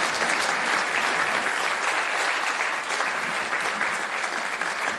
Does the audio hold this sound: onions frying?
no